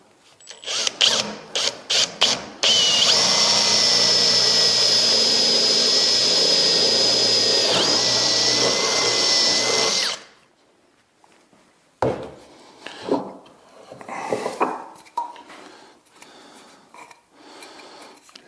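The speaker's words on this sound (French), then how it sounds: "je suis parti pour percer mon trou" Power drill boring a hole into a woodworking bench while a bench vise is being fitted, a steady loud whine lasting about seven seconds after a few short starts, then ending in clicks and handling noises.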